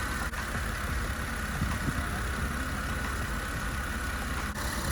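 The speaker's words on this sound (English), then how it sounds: "So happy with how this engine is sounding with this many miles." A Jeep JK's 3.8 engine idles smoothly and evenly, a loud, close, continuous rumble with a constant drone and no speech.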